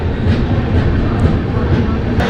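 A passenger express train pulls into Sawai Madhopur Junction with a loud, steady low rumble of wheels and carriages close by and no clear voices over it.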